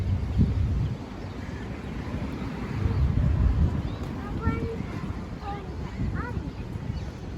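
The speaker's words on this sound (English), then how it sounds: "It's so windy." Strong wind buffets the microphone outdoors near a park playground, a continuous low rumble that swells and eases, with faint voices and distant sounds mixed in.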